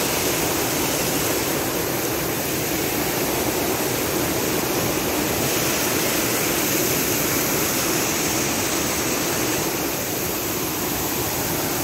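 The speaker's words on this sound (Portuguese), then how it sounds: "Aí, gente, cachoeira." A waterfall at a bathing resort, cold water pouring continuously in a loud, steady roar that fills the scene with broadband rushing noise, close by and unbroken, with no voices.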